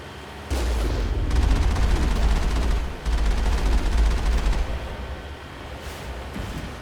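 Video-game gunfire in Mass Effect, a loud sustained burst of shots fired at the player, roaring continuously for several seconds with a brief break midway before resuming and trailing off.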